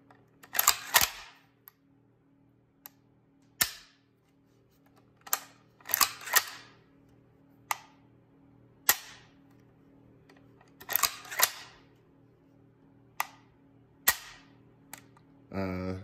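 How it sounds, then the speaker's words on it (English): Dry-fire trigger pulls on a Sentry Arms CETME .308 Sporter rifle come through as a series of sharp, isolated metallic clicks and snaps spaced a second or so apart, some in quick pairs, close and fairly quiet. "let's check the trigger on the Sentry Arms CETME Sporter."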